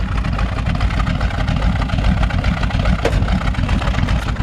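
The old-school exhaust of a 1953 Ford F100 pickup rumbles loud and close, a steady deep idle burbling throughout.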